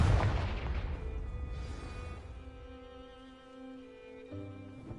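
Confringo fire spell in Hogwarts Legacy, a sudden booming blast followed by a fading rumble and a soft magical tonal hum.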